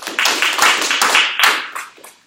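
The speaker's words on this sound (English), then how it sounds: "Let us all clap." A small group claps together in a short burst, a few sharp close hand claps running for about two seconds and then trailing away, with no talking.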